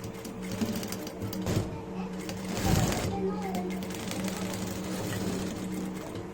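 A sewing machine stitches a zip onto fabric from an old shirt, its rapid mechanical whirring running steadily close by, with a brief louder burst midway, while someone talks over it.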